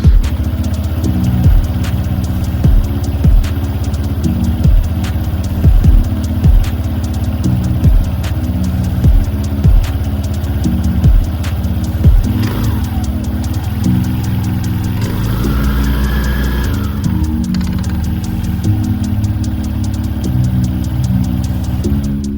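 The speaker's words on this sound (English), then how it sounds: "let's start the motorcycle and check if the variator is functioning properly" A TVS Ntorq 125 scooter engine is started and left running with its variator cover off, a steady low idle throbbing close by with regular pulsing knocks and a brief rise in revs partway through.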